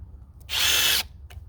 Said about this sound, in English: Alright, both impact drivers are using the same DeWalt bit.